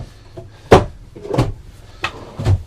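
Drawers in a 2020 Newmar Bay Star 3626 RV slide open and shut, giving about four sharp wooden thumps and knocks, close and distinct, with quiet gaps between them.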